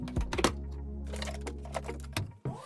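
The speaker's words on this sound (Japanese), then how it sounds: "このポータブル電源を使用する前には、排気口をこのように開けていた方が良さそうです。" Exhaust vent covers on a FOSSiBOT F2400 portable power station are pried open, giving several close, sharp plastic clicks and snaps over a steady low hum.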